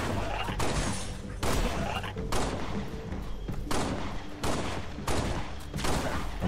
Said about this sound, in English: How many fucking pistol shots are you gonna take?